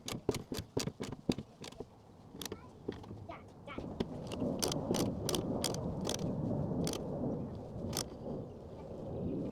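Fasteners on a car fire extinguisher bracket tightened with a ratchet, a brisk series of sharp close clicks in quick bursts that thin out to occasional clicks under a steady background rumble.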